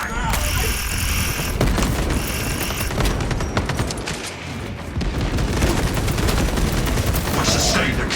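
Gunfire and a frag grenade blast in the Warhammer 40k video game Space Marine 2, dense rapid shots and booming impacts layered with battle effects, loud and continuous with a brief lull midway.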